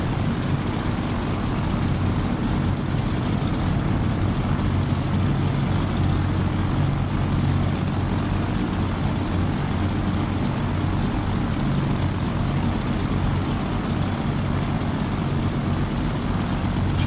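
A steady, loud piston-engine drone from an F4U Corsair propeller aircraft taxiing in a video game, with a continuous low rumble holding throughout and no pauses or voices.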